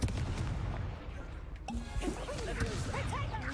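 A Confringo fire spell blasts off in Hogwarts Legacy, a burst of crackling, booming impacts layered with whooshing and chirpy magical effects over a dense, loud game soundscape, close and busy throughout.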